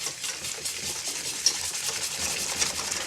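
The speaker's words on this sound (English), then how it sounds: "now we're going to whisk that up" Gluten-free pancake batter being whisked in a bowl, a steady, continuous brushing and swishing with faint irregular clicks, close and fairly quiet, with no talking.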